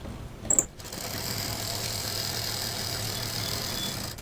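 A sewing machine joins printed shopping bag panels, running as a steady, continuous mechanical hum for several seconds after a brief clatter at the start, with no talk.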